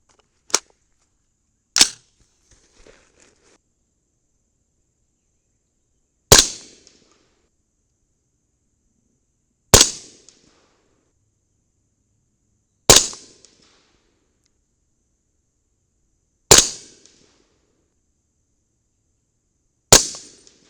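Seven sharp 300 Blackout rifle shots fired through a 10.3-inch barrel with 225-grain Hornady match bullets, loud and close, spaced irregularly a few seconds apart with short decays and silence between.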